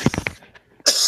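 Sharp coughs from a person with a cold, two or three quick close bursts followed by a short pause and a raspy breath or throat sound.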